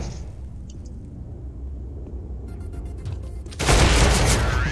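Gunfire from the CS:GO video game: faint scattered shots early, then a loud sustained burst of rapid firing near the end.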